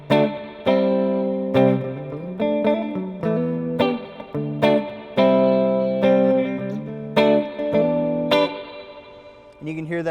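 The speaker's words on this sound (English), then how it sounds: "We're stuck right now on the spring setting. So that's just a type of reverb." Electric guitar through an EHX Holy Grail reverb pedal set to spring, with plucked notes and chords ringing out with a splashy reverb tail, loud and clear, no talking.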